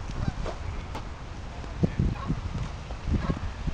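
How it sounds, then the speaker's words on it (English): Geese at a lakeside park honk repeatedly at a moderate distance, with several short calls coming in irregular bursts among other waterfowl sounds. "that was a big goose"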